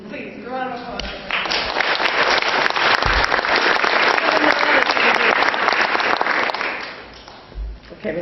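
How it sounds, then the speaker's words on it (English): An audience breaks into loud applause after a talk about politics, a dense roar of clapping that swells after a brief voice, holds strongly, then fades out near the end. "Please, round of applause."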